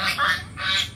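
Two loud, nasal honks from a goose on a farm, close by and in quick succession within a second.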